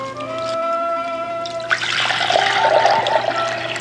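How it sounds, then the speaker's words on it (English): Cold water runs and splashes steadily while a cup of arame seaweed is rinsed, a soft trickle swelling into a fuller, louder rush partway through, with no talking. "Rinse 1 cup of arame quickly in cold water."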